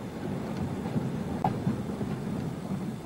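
A loose-coupled steam goods train rolls along the rails with a steady low rumble and occasional faint clanks and knocks, heard from fairly close and without voices.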